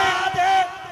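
At a religious gathering honouring Imam Jafar as-Sadiq, a crowd answers with a brief, loud, unified shout of a zindabad slogan, lasting under a second.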